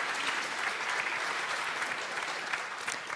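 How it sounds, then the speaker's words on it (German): Sustained applause from an audience at a German panel discussion, a dense, even wash of clapping from many hands that carries on steadily without pause. "Sie dürfen ruhig klatschen."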